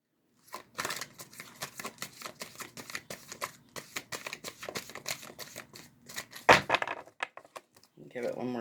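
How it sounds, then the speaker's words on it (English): A deck of tarot cards being shuffled by hand, a run of quick riffling and slapping bursts close up, with a louder snap near the end and a voice speaking briefly at the close. "Give it one more shuffle. The cards are still a little sticky."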